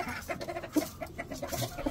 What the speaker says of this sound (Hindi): दो व्हाइट मुर्गियां, एक लाल मुर्गी, एक काली मुर्गी